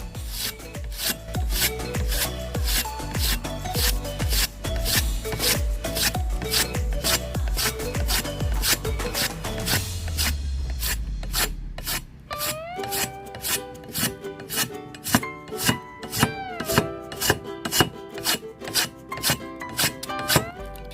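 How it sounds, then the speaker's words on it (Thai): A Chinese cleaver is sharpened by rubbing it across sandpaper in forward-only strokes. The close, loud rasping repeats in a fast, even rhythm for about twenty seconds. Toward the end the strokes grow sharper and more separated. "เราใช้กระดาษทรายถูเพียงไม่กี่ที มีดปังตอก็มีความคมแล้วครับ"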